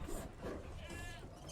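A couple of quavering sheep bleats from the game Assassin's Creed III sound over a busy background, fairly faint and mixed with other game noise.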